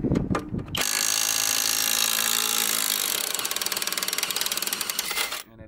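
Cordless impact wrench on its highest fourth setting hammering at rusted fasteners on a vehicle, a loud continuous rattling whir lasting several seconds after a brief start, ending abruptly.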